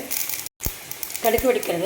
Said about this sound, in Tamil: கடுகு வெடிக்கிறது